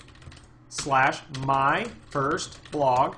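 Keys clatter on a computer keyboard as a web address is typed into a browser tab, quick light clicks running beneath a close voice speaking throughout.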